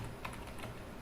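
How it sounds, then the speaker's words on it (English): Computer keyboard keys tapped quickly to type a localhost URL, soft clicky keystrokes close by and fairly quiet, lasting about a second with no speech. "let us type down the URL, which is http://localhost"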